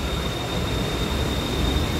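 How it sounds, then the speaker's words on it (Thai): A BTS Skytrain at Asok station in Bangkok produces a steady, loud broadband rumble with a constant high whine, continuous and unbroken throughout, with no talking. "ผมอยู่ที่สถานี รถไฟฟ้าอโศกครับ"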